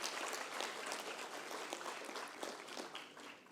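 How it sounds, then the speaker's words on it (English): An audience applauds for the Prime Minister of India, a steady wash of clapping that fades slightly toward the end, faint overall. "Can I have the claps for the Prime Minister of India?"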